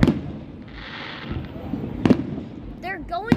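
Fireworks at a Fourth of July show burst with sharp pops and crackling booms at intervals, loud and close, while people talk excitedly and gasp in between.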